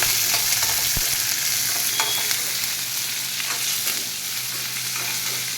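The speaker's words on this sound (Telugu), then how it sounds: "ఎర్రగడ్డలు చిన్న ముక్కలు తరుక్కున్నాం చూడండి తాలింపుని" Small-cut red onions fry in hot oil in a tempering with dry red chillies, a constant loud sizzle and crackle. Occasional stirring clinks are heard, and nobody speaks.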